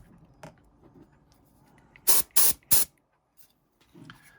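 Koonie cordless air duster rated at 77000 RPM firing three short, loud bursts of rushing air in quick succession, with quiet handling noises before and after.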